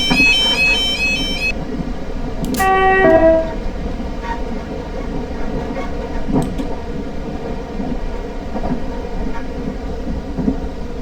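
A South Western Railway Class 444 electric train runs along in Train Simulator 2017, a loud continuous rolling rumble with a brief horn-like tone and a few clanks over steady track noise.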